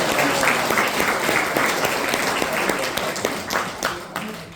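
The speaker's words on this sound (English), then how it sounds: "Round of applause for Steve on the guitar." An audience applauds a guitarist at a small trio performance, dense steady clapping filling the room for several seconds before tapering slightly toward the end.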